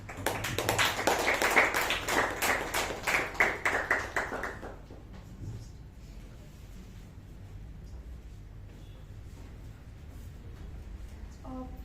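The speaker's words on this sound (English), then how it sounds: "a huge round of applause and congratulations to the speaker Gajendra" A room of attendees at a Toastmasters club meeting claps for a speaker, a burst of close, sharp handclaps for about four seconds that quickly fades out, leaving quiet room tone with faint shuffling.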